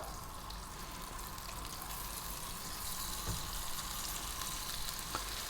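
Thick lamb pieces frying in a pan over medium heat, a faint steady sizzle with occasional small pops, no talking.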